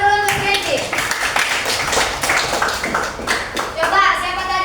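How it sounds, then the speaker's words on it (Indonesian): Classroom applause for a student during a school lesson, a burst of children clapping in an uneven patter, with a young voice speaking over it near the beginning and again near the end. "Tepuk tangan dulu untuk Randy"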